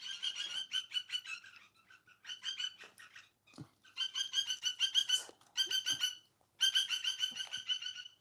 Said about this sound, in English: The birds are laughing as well.